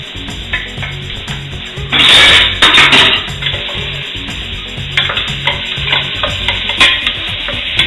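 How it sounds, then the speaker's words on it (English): Button mushrooms sauteing in a pan with butter and olive oil, giving a steady sizzle with scraping stir strokes and a louder burst of frying near the middle, no voices. "I'm going to do these little button mushrooms. We saute those first."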